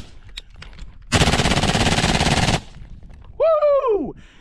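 Old-school Navy SEAL rifle with a Surefire broom-handle foregrip and Aimpoint Comp M2 sight fires one fast, loud burst of about a second and a half, followed by a man's excited whoop.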